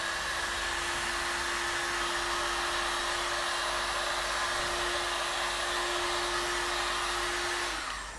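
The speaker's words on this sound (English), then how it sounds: "all you need to do is run a heat gun over it, and all those creases will disappear" A heat gun blows steadily over creased Hyperlex film, a continuous whooshing roar with a fixed motor whine held at one level for about eight seconds, then easing off at the very end.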